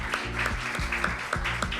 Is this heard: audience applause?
yes